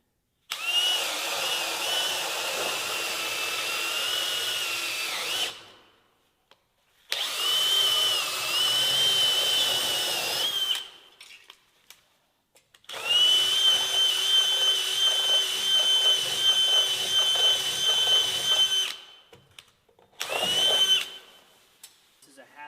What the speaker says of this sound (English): This is a 1/2-inch hammer drill bit.